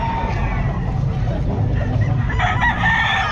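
Gamecock stag roosters crowing at a busy pet market in Calumpit, a crow rising over steady crowd babble and background bustle.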